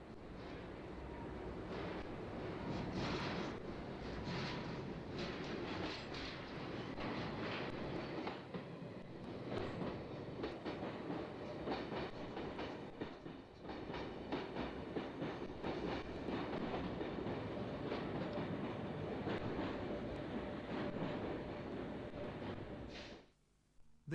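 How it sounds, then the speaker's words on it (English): A train trundles steadily over a railway bridge on the main line near Finsbury Park, a continuous rumbling rail roar with clickety-clack wheel beats, heard alone until it cuts off at the end. "These trains ran weekly and presented a poignant sight, trundling over a line"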